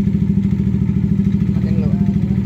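A Yamaha NMAX scooter engine idles close by in a workshop after a fuel ratio adjustment, a steady low throbbing putter with constant rhythm, and faint talk is heard underneath.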